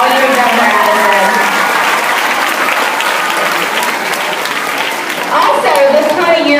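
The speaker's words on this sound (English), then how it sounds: "let's give her a round of applause" A gala audience breaks into a round of applause, many hands clapping in a thick, steady roar that swells again near the end, with voices mixed into the crowd noise.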